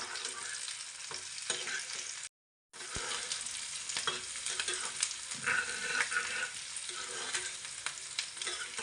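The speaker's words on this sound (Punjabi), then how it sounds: "ਹੁਣ ਇਹਦੇ ਵਿੱਚ ਆਪਾਂ ਮਿਰਚਾਂ ਪਾ ਲੈਣੇ ਆ ਹਰੀਆਂ ਮਿਰਚਾਂ ਕਿਉਂਕਿ ਇਹ ਪਿਆਜ਼ਾਂ ਦੇ ਨਾਲ ਹੀ ਭੁੰਨੇ ਜਾਣਗੀਆਂ ਜੀ" Onions and green chillies frying in a pan for a home-cooked dahi tadka, a steady close sizzle with stirring scrapes, broken by one brief silent gap.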